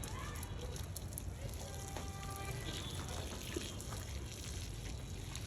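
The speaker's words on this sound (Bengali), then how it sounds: "বেলা গাছে একটু পানি দিয়ে দিলাম" Water pours steadily onto potted plants in a rooftop garden, making a continuous splashing and trickling wash, with faint voices underneath.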